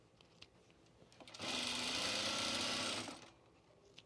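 A sewing machine stitches binding on a gift bag in one steady, fairly loud whirring run of about a second and a half, with quiet handling clicks before and after.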